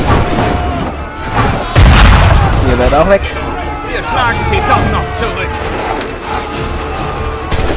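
Booming cannon blasts in Assassin's Creed 3 thud and crackle amid battle noise and a crowd, while someone talks excitedly over it.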